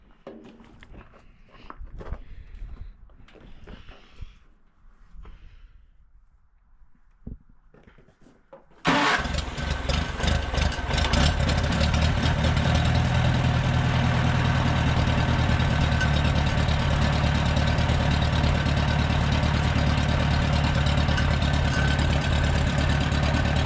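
Massey Harris Pony tractor engine cranking over and catching after faint rustling, then settling into a loud, steady, close idle that continues to the end.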